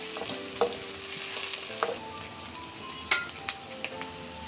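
Chopped capsicum being stirred and roasted in a pan for garlic noodles: a soft, steady frying hiss with a few sharp clicks of a spoon against the pan, fairly quiet, no talking.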